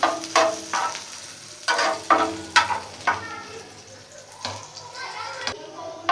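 Finely chopped onions sizzling in a pan as they soften for street-style mini burgers, with bursts of frying crackle and stirring scrapes in an uneven rhythm, close and clear.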